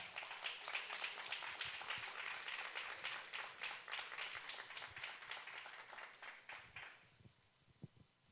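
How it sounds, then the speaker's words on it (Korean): Sustained applause from a large audience at a broadcast advertising awards ceremony, dense steady clapping that fades out near the end. "큰 박수 부탁드립니다"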